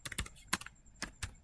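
Keystrokes on a computer keyboard as a network command is typed for a Cisco multilayer switch, a few quick clusters of clicks followed by two separate taps, close and fairly quiet.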